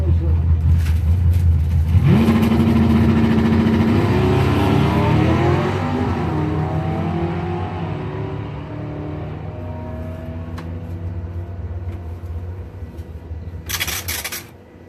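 Drag racing cars launch hard at a test and tune session, a loud engine roar with a rising rev that fades down the strip, followed by distant rumble and a brief burst at the end.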